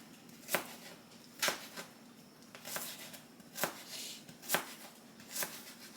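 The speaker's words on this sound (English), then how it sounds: "I like to cut my onions into really, really thin pieces" A knife chops onions into really thin pieces for guacamole, sharp crisp board taps falling roughly once a second, close and fairly quiet over faint background noise.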